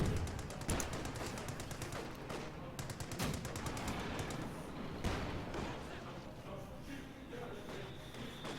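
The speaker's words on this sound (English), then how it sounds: "that mortar shell landed very close" Mortar shells and rapid gunfire erupt in a Company of Heroes 2 battle, with dense bursts of machine-gun rattle and sharp, close impacts crowding together at a moderate level.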